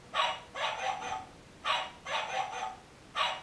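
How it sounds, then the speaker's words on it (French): Several large dogs bark in repeated bursts, two or three barks at a time separated by short pauses, fairly close and loud with no talking over them. "des gros chiens l'attendaient, prêts à la dévorer"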